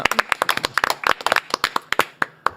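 A small studio audience on a Korean talk show claps to welcome a guest: sparse, crisp individual claps at an uneven rhythm, close and distinct rather than a blended roar.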